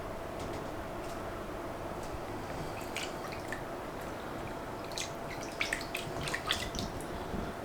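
Water running steadily while a baby pastel ball python is washed, a constant rushing wash with small drips and splashes near the end and no voices.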